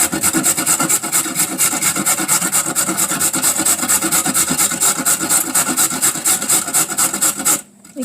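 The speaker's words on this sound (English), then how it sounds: "going to grate my carrot, not very thinly, but much more thicker" A carrot rasped against a grater in thick strips, a steady fast rhythm of loud close scraping strokes that runs without a break before stopping abruptly near the end.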